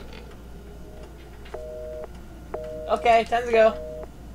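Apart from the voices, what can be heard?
telephone dial tone in the video game Resident Evil 7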